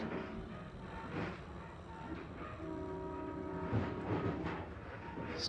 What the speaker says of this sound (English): He's traveling alone on a train